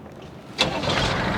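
A U.S. Army HMMWV with a 5.2 liter V8 diesel cranks and fires, a sudden burst that settles straight into a rough, steady close-up idle.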